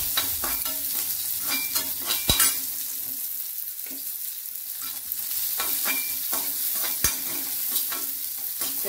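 Curry leaves crackle in hot oil for a sweet mango jaggery pachadi, a loud close sizzle with repeated stirring scrapes and two sharp utensil knocks.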